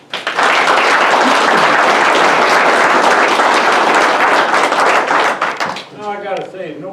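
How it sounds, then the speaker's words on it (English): Loud sustained applause from the audience at a township board meeting fills the room for several seconds, then fades as a voice begins speaking. "nobody's ever clapped for me like that"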